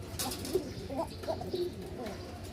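A male Bashiraj pigeon coos softly in a few low, throaty phrases against a busy background hum. The calls sound fairly close but faint.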